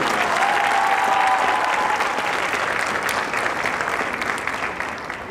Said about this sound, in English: Let's give a warm round of applause for Andre.